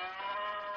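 A toy board game gives off an electronic cow moo, a single sustained, tonal, nasal bleat lasting under a second, loud and steady with no talk over it.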